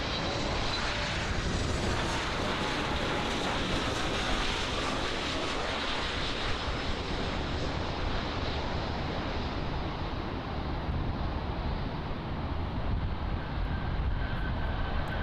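An American Airlines Boeing 737 MAX arriving on runway 09 at Miami International Airport, its jet engines a loud, sustained roar heard from nearby that slowly shifts in pitch as the aircraft passes.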